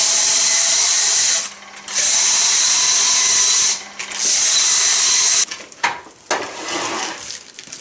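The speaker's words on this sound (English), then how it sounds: "So for every row I sand each row to get the high spots off." A power sander works over rows of glued wooden pieces in three loud, steady bursts with short pauses between, then gives way to clattering handling noises for the last couple of seconds.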